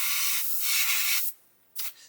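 Matte varnish sprayed from an airbrush or can to seal weathering pigments on a 1/24 Airfix Bf109 G-5/G-6 model: a steady close hiss for over a second, a pause, then a short final burst.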